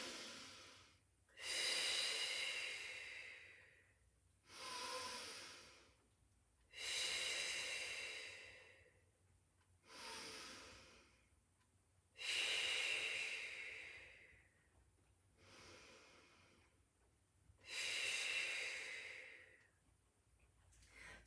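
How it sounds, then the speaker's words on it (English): Slow Pilates lateral breathing, in through the nose and out through the mouth, heard as about eight close, airy breath cycles with a steady rhythm and quiet pauses between each inhale and exhale, no talking. "begin to breathe in through the nose and out through the mouth."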